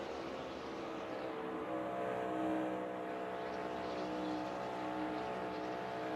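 A NASCAR race car at the 2024 AdventHealth 400 holds a steady partial-throttle engine drone through a corner, its tone wavering slightly as it carries on continuously for several seconds with no talk.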